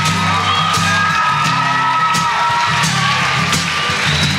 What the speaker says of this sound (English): Round of applause for the director.